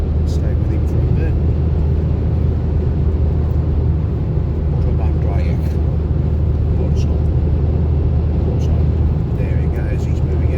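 Car driving fast at full throttle in sixth gear on the German Autobahn, a loud, steady low engine drone and road roar filling the cabin throughout, with faint higher noises above it.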